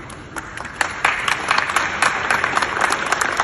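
A crowd applauds with dense, steady clapping throughout, loud and close, rising slightly partway through with no speech over it.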